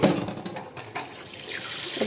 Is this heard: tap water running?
yes